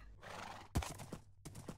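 Horse neighing in Minecraft: a loud whinny repeats in several short bursts with a breathy, trailing texture, alone with no talk.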